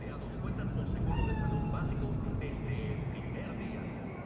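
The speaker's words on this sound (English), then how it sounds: "Chill, just a cat." A cat meows a few times in the game Cyberpunk 2077, short rising and falling cries over low ambient city rumble, with people talking nearby.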